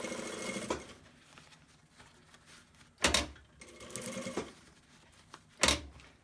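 A sewing machine stitches a COVID fabric mask, running in short bursts with quiet stretches between, plus two sharp loud clacks from the back tack button, and no talking.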